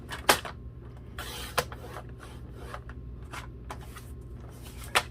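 A paper cutter trims paper for a small DIY photo album cover, giving a steady soft rustle broken by several sharp slicing clicks spread unevenly through the take.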